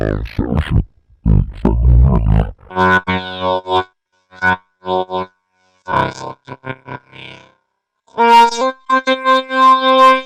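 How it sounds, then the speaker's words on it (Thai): A voice run through a Zoom V3 vocal effects processor, first sounding deep and gravelly, then shifting to a buzzier, more synthetic tone in short spoken bursts. "ดีฟเนี่ยจะเป็นเสียงต่ำแบบลึกๆนะฮะลองฟังดู"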